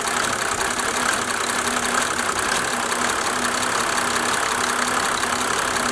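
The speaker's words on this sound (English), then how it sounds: "Look, this engine is running max 2 minutes." A diesel engine idles steadily right after a fuel purge in a closed garage, a loud, even mechanical clatter with a slight knocking texture, running alone with no voices.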